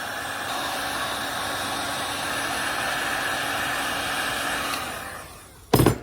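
A heat gun blasts a steady, loud whooshing hum at a kydex sheet being softened for a knife sheath. The drone holds for about five seconds, then cuts out and a short clatter follows.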